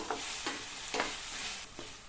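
Potatoes with peas sautéing in a pan, a steady oily sizzle broken by four scraping stirs at roughly half-second intervals, close and fairly quiet with no voices.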